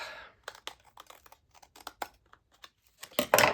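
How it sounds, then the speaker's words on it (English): Non-stick scissors for sticky craft material snip in a series of short, crisp cuts, close and fairly loud, ending in a louder burst of cutting. "these are supposed to be my non-stick scissors."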